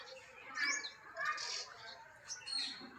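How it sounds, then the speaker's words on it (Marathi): Small birds, house sparrows, chirping and twittering in short, high bursts, fairly faint, with a soft background hiss. "बघा आल्या त्या वरती चार पाच चिमण्या तरी आल्यात चपात्या खायला"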